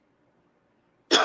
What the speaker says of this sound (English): Gives me a little cough